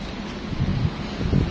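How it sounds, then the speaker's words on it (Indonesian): Strong gusts buffet an outdoor microphone at a used-car auction lot under cloudy, pre-rain skies, producing a steady, heavy low rumble that swells and dips throughout with no one speaking. "Wah, anginnya kenceng banget"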